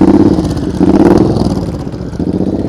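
Motorcycle engine at low speed during slow-speed riding practice, throttle blipped repeatedly in short pulses that rise and ease off, fairly close and steady throughout.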